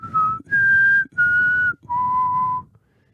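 A person whistles a short four-note melody, the first note brief and the rest held, each note at a different pitch like a movie theme, clear and close with gaps between.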